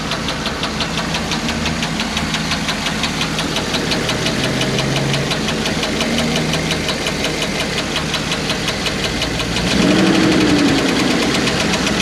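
An Isuzu engine with a broken stud and a faulty lifter runs with a rapid, steady metallic ticking over its idle drone, then revs up louder near the end.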